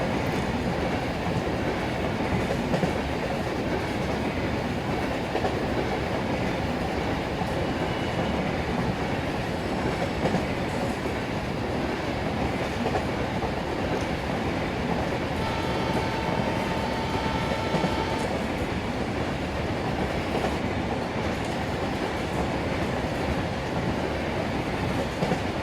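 A diesel train in Indian Railways Train Simulator passes at high speed on the opposite track, a loud, unbroken rumbling roar with faint wheel clatter and no voices.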